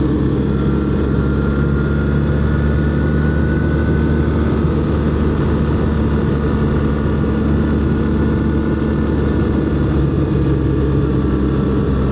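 A Harley motorcycle engine rumbles steadily and loudly, heard from a rider's position on a BMW R-1300 GS along a Pennsylvania road, the low drone blending with heavy wind and road noise for the whole stretch.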